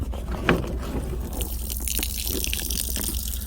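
Water drains out of a pump sitting under a house in an off-grid setup, a steady close trickle and gush that runs continuously with a few brief splashy spurts.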